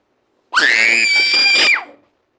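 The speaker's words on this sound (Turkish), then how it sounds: "herkes bağırıyor bağırıyor bağırıyor başım şişirdi" A single child lets out a loud, high-pitched scream lasting over a second, rising sharply and then trailing off, with silence on either side.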